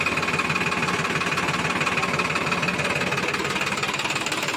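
A steady Sonalika 35 tractor engine idles close by, a continuous rumbling drone with a slight knocking pulse that holds level throughout.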